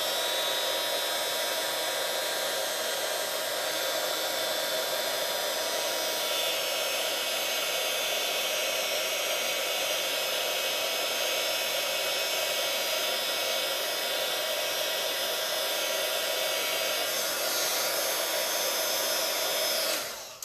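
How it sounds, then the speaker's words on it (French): A heat gun blowing steadily for about twenty seconds while heating embossing powder on a watercolour scrapbook page, a loud continuous airy whoosh heard up close with no talking. "Donc là, je repasse un tout petit peu de heat gun."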